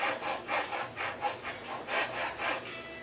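A file or small saw cuts a nut slot for an LSR nut at the rosewood neck of a Fender Stratocaster, making a dozen or so close, rhythmic rasping strokes that sound even and unhurried.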